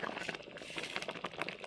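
Kheer with khoya bubbles gently in a pot, a soft, continuous simmer of thick milk with small pops and gurgles, close and fairly quiet.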